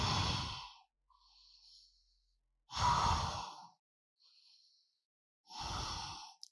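Three deep, slow yoga breaths, each a long audible exhale with softer inhales in between, close to the mic and spaced evenly against quiet.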